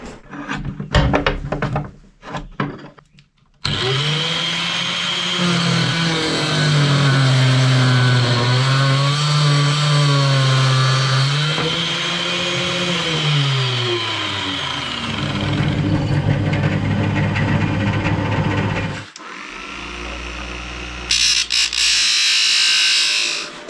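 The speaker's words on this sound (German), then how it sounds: "den werde ich mir jetzt mal aus ein paar Stahlprofilen zusammenflexen und schweißen." Angle grinder cutting steel profiles for a base stand: a loud, steady whine with shifting pitch under load runs for about fifteen seconds after a few short bursts, then eases down into further grinding.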